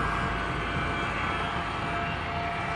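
The Cactus 1549 airliner sits ready for takeoff, its engines giving a steady, even roar with no breaks or voices.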